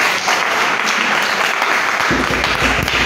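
A congregation at a nighttime prayer vigil in Daloa applauds and cheers in a dense, loud wash of clapping and voices, with a low rumble entering near the end.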